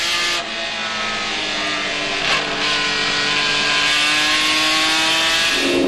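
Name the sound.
vintage race car engine revving at the Monterey Historics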